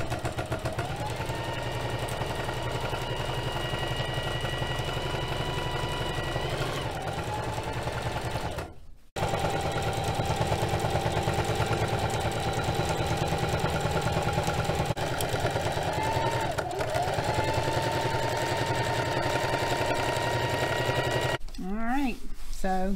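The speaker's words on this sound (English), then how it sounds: "I'm just gonna sew it down." A sewing machine runs a straight stitch along a bed sheet for van cot bedding: a continuous close mechanical whirr that pauses briefly and resumes, with a person talking over it.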